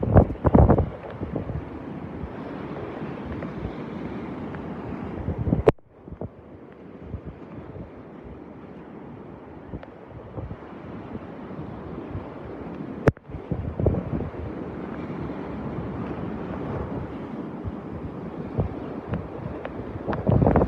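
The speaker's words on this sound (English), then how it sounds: "I'm going to try to tuck the camera in close to me, get it out of the wind and rain." Hurricane Elsa's wind and rain roar as a steady, loud rush, buffeting the open air on the North Naples, Florida coast, with a few sharp knocks and a brief quieter lull midway. No one speaks.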